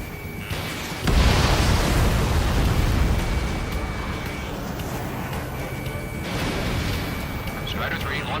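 Missile launches and explosions in the Ace Combat 7 video game, a loud rumbling blast swelling after the first second and another surge near the end, over a dense continuous background.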